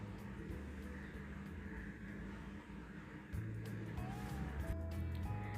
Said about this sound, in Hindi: और जो विनेगर में मिर्ची भिगाई थी वो भी डाल देंगे और बंद करके ग्राइंड करेंगे